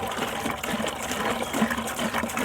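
Water running steadily into a bucket, measured out on a scale before mixing plaster for a clay-wedging slab; a continuous, close gushing fill with no talk.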